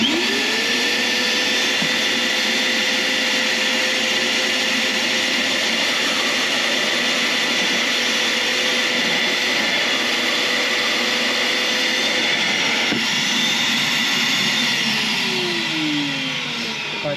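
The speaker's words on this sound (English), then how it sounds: "I've got my Harbor Freight Special shop vac" A Harbor Freight shop vac runs continuously at full roar, drawing diesel fuel out of a sailboat's bilge; its tone holds steady, then shifts near the end as the canister fills.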